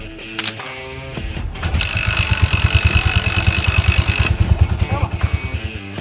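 A Yamaha SR400 kickstart motorcycle fires up and settles into a loud, close, lumpy single-cylinder idle with an even rapid thumping pulse, preceded by a few mechanical clanks.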